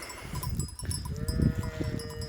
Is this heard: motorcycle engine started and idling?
no